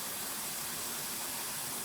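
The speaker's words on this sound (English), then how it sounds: "the fans are indeed working." Cooling fans running beside a 2015–2022 Ford Mustang EcoBoost on a dyno, a soft broadband rushing airflow, steady and fairly faint with no voices.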